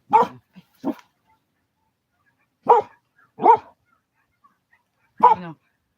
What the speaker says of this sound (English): this is a bunch of other wild dogs barking